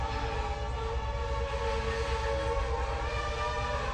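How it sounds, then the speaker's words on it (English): A passing train sounds its horn in one long, steady, loud blare of layered tones, carried over a rumbling low drone from the rails, with no voices. "Oh my gosh, train. We hear you screaming."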